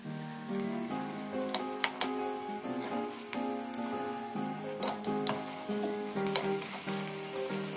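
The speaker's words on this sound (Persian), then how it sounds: "بهش گوشت رو اضافه میکنم و همراه پیاز تفت میدم تا رنگ گوشت تغییر کنه." Meat sautéing with onions in oil gives a soft, even sizzle with scattered light clicks of stirring, faint beneath sustained musical tones, no speech.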